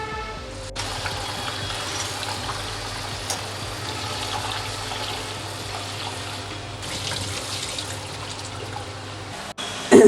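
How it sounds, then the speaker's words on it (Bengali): Lentils (dal) rinsed in water for a Bengali mixed-vegetable curry, a steady flow of running water splashing continuously for about ten seconds with faint clinks, no voices. "এই যে আমি 3 চামচ ডাল নিয়েছিলাম, এখন এটা ধুয়ে ওর মধ্যে দিয়ে দেবো।"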